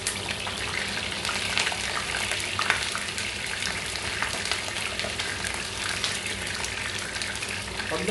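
Sea bream frying in a pan under a screen gives a constant, dense hiss and crackle of hot oil, close and even throughout.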